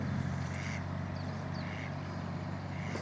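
A duck at a fishing pond gives a few short, faint quacks spaced across a few seconds, set against a steady low outdoor background hum.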